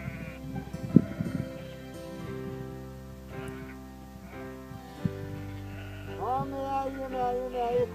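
Sheep bleating in a flock as a shepherd calls them, several drawn-out wavering bleats near and far with faint background noise.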